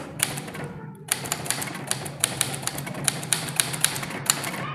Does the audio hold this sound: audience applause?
no